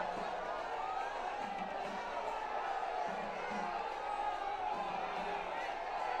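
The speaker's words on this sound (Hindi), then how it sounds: "ये देखिए बड़ी संख्या में लोग किस तरह से उल्लसित हैं, प्रसन्नचित्त हैं" A large crowd cheers and whoops at a prime ministerial roadshow in Kochi, Kerala, a steady, dense roar of many voices that holds at an even, moderately distant level throughout.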